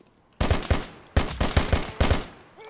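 Bursts of rapid gunfire from a Minecraft cops-and-robbers apocalypse match rattle out loud and close, in two volleys of several shots each with a short pause between them.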